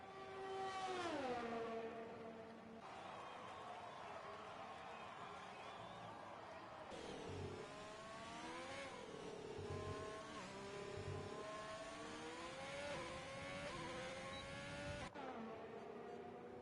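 A Haas Formula 1 car in the F1 2020 racing game, lapping the Mexico circuit: a steady high-pitched engine whine that climbs and drops through gear changes, continuous and fairly loud for most of the stretch.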